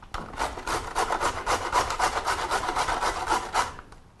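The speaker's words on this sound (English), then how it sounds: "we can grate a carrot" A carrot rubbed against a grater, a rhythmic series of rasping scrapes in quick back-and-forth strokes, close and clear with no talking.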